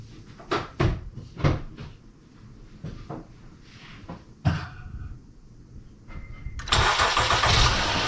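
After a few scattered clicks and knocks, a 2016 Honda Odyssey with a suspect alternator cranks and its engine catches, settling into a loud, steady run close by.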